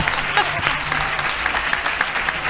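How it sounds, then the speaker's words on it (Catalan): A seated audience at a Catalan panel talk gives a short burst of applause, scattered claps from a modest crowd over a couple of seconds. "Fem-li un aplaudiment."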